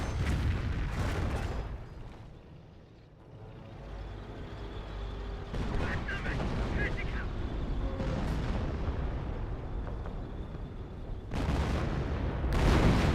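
A rocket barrage and gunfire from Company of Heroes 1 rumble in a low, continuous wash. Heavier booming bursts break through at irregular moments across the stretch.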